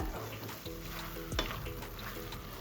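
Chili powder sautéed in a pan for intestine curry gives a faint, steady sizzle with soft stirring and a brief scrape of the spoon partway through.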